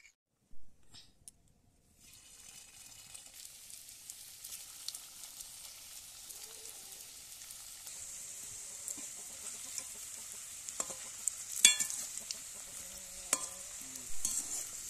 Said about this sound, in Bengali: আর এগুলোকে আমি কড়াইতে দিয়ে চলো ভেজে নেব